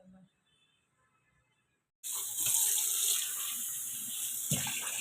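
Tap water runs steadily from a faucet as tender leaves are washed, a close, constant hissing splash that starts abruptly after a quiet pause and continues with slight shifts as the leaves move under the stream.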